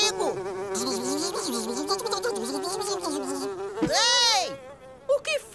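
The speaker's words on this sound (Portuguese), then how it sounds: "Isso aqui está cheio de moscas!" Cartoon flies buzz loudly and continuously, their whining drones rising and falling as they swoop close and away, with a sharp burst near the end.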